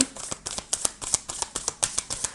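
A deck of DCK oracle cards is shuffled before a reading: quick, rhythmic papery flicks and riffles repeat close to the microphone in a brisk pattern, with no speech.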